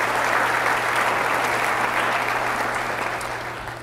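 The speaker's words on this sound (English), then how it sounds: "So a round of applause for all of us for doing the hard work to" Sustained, dense applause from a large conference audience, loud and steady throughout, with a constant low hum underneath and no speech.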